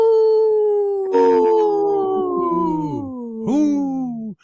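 Wolves howl loudly and close, with long sliding howls that overlap and layer into a chorus, then rise again in a fresh wave before cutting off.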